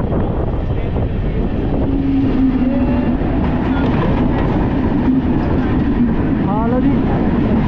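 An Amritsar-bound train passes alongside the 14674 Shaheed Express, a loud, steady rolling rumble under heavy wind noise, with a faint voice briefly audible.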